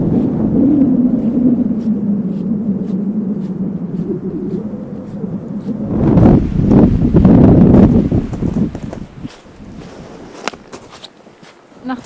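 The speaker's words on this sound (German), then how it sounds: "Zwischendurch sind richtig starke Böen, jetzt geht's gerade, aber es ist schon echt heftig zwischendurch." Strong wind gusts buffet the microphone during a snowstorm on the Lofoten islands in winter, a steady roar that swells into a loud, rumbling surge before easing to a quieter blowing.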